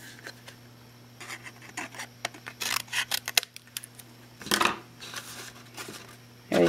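Scissors cut the top off a paper turkey craft in a run of crisp snips and crinkling paper, irregular close clicks and rustles with short pauses between cuts.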